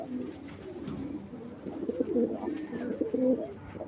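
Pigeons cooing in a loft at a pigeon farm, soft low throaty coos rising and falling steadily over faint room noise, close by with no talk.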